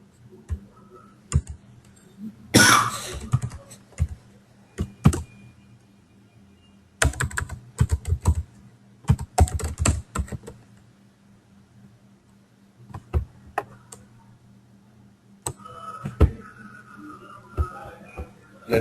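Someone types commands on a computer keyboard, with quick bursts of close, crisp key clicks separated by pauses, plus a louder clatter early on and a faint steady hum underneath.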